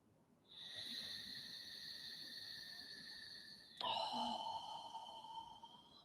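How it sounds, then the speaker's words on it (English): Loud Ujjayi yoga breathing through the nose: one long, smooth, hissing breath followed by a second that starts abruptly partway through, both close and alone. "perhaps you can hear my Ujjayi breath"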